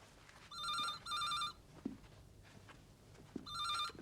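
Old-style telephone bell rings indoors in two-burst cycles, fairly faint and distant, twice at the start and again at the end, with soft room noise and small knocks between rings.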